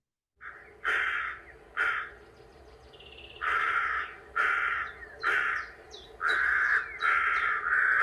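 A rapid series of loud, clear crow caws made by a person imitating crows, some short and some drawn out, coming close together in an uneven rhythm with no talking.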